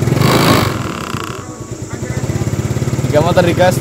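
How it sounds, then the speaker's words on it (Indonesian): A motorcycle engine idles with a steady close putter and rises briefly under throttle, while someone talks over it. "Jika motor digas"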